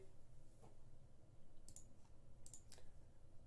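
Faint computer mouse clicks, a few quick paired taps spaced out over a low steady hum, close but quiet, with no talk.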